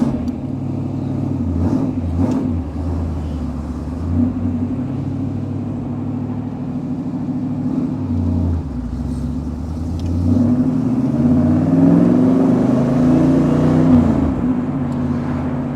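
A 1986 AC Cobra Mk IV's V8 engine idles with a deep, loping rumble, blips, then revs up and pulls away under acceleration, heard close from the passenger seat with steady road rumble.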